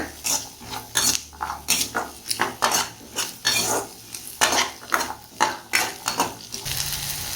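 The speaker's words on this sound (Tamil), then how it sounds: "அதோட முந்திரி பருப்பு, நல்லா வதக்கிக்கோங்க." Cashews and onion sautéed in a pan, a spoon scraping and clanking against the metal in a quick, regular rhythm over a faint sizzle, close and fairly loud.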